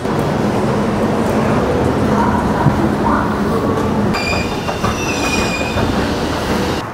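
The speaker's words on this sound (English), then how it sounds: "Just got off the train." A passenger train in Australia rolls in with a loud, steady rumble, wheels clattering and squealing on the rails as it slows nearby.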